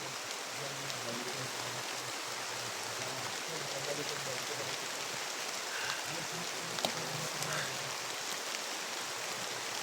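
Steady rainfall in a video game hisses as a dense, even wash of droplets, holding at a constant moderate level throughout with a few faint brighter ticks and no pauses.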